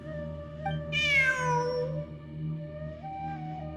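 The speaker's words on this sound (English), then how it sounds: "Look, a cat." A cat in the video game Genshin Impact gives a clear, drawn-out meow that rises and then falls, followed by a quieter second call over a steady, low in-game ambient hum.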